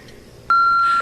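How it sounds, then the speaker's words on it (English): A single steady electronic answering-machine beep sounds alone, clean and close, lasting about half a second after a brief quiet pause. "Please leave a message at the beep."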